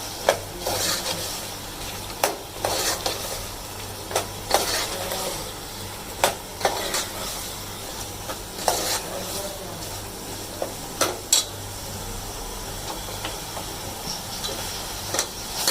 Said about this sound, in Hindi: ताकि मसाले में मेरे आलू भी भून जाएंगे